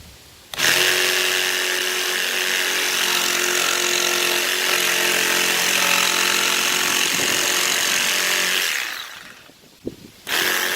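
A power tool cuts an access hole through the subfloor of a shuttle bus being converted, a loud, steady saw-like buzz running about eight seconds close up, then trailing off to a couple of brief bursts.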